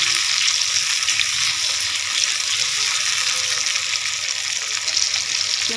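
Tomatoes fry with half a spoon of salt in a pan, making a loud, steady hiss of sizzling that holds without a break and has no voices over it.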